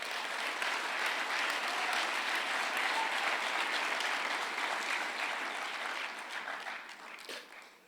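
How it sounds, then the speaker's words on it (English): A large audience applauds steadily at a senior awards ceremony, a dense sustained wash of clapping that holds evenly before gradually thinning and fading toward the end. "just give a round of applause for our community"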